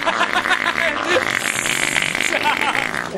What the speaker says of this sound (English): That's the fart noise I haven't heard, like, since childhood